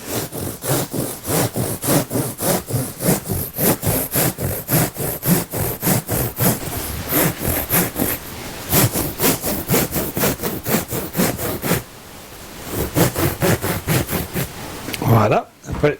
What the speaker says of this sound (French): Alors pour couper, on utilise un couteau.